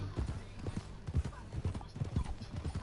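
Horse hooves clip-clopping at a steady walking rhythm while riding in the video game Red Dead Redemption 2, a string of close, even hoof strikes under a soft background.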